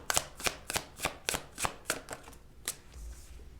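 Tarot cards riffle-shuffled in a rapid run of about ten crisp, close bursts, then a pause and one last snap, with no voices.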